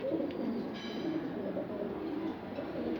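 Egyptian pigeons standing on their wire perches give soft, low cooing calls, fairly faint and repeated against a steady background murmur, with no talking.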